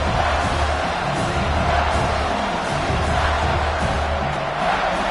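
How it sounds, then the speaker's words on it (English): Stadium crowd in the NCAA 26 college football video game, a broad continuous roar of cheering with occasional whoops, steady and loud throughout, with no talk over it. "the crowd coming to life here trying to help this defense down in the red zone"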